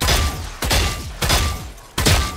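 Four evenly spaced gunshots from the Ejder Vandal rifle in a video game, each a sharp crack followed by a short decaying tail, loud and close.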